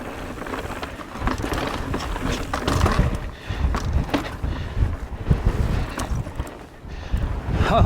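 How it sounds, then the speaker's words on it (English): Strong wind gusts buffet the microphone on a Moab mountain bike trail, a loud rough roar that swells and dips in irregular surges over several seconds with no talk. "we got some wind action going"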